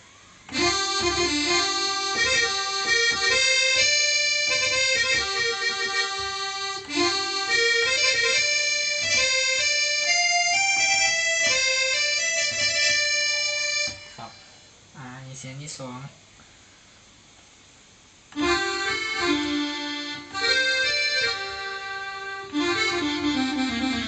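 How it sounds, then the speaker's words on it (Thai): Accordion voice played on a KORG keyboard with a light added effect, bright reedy chords and melody sustained loudly, a brief pause and thinner notes near the middle before full playing resumes. "เสียงแอคคอร์เดียน"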